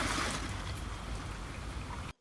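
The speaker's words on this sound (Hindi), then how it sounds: "मैंने बोला था ना कि बारिश होगा।" Rain falling in a steady, dense hiss of drops and trickling water, fairly close and uniform, cutting off abruptly just before the end.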